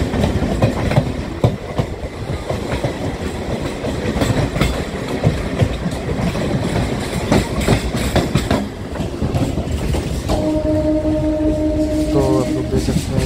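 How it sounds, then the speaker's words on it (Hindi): A diesel train on the Sealdah line approaches a station, rumbling and clattering loudly and continuously throughout, with steady horn-like tones near the end and crowd noise mixed in. "दोस्तों सामने से ट्रेन आ रही है, रामनगर तक जाएगी।"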